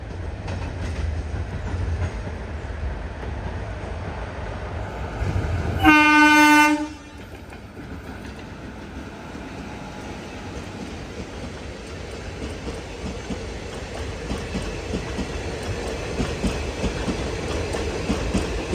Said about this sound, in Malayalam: Mangaluru central Coimbatore junction express